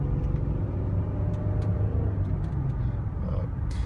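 A 2003 Infiniti G35 engine runs with a low, steady rumble as gas is applied, a fairly quiet, continuous drone close to the car without clear rev peaks.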